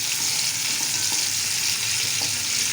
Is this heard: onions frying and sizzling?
yes